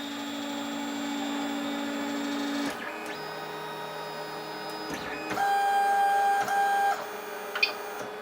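A Lulzbot 3D printer homing its axes, stepper motors whining in steady electronic tones that shift pitch as the carriage moves between positions, with a brief click near the end.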